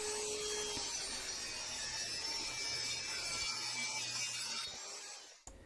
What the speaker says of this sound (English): we need to bring it over to the table saw to cut it down to its final dimensions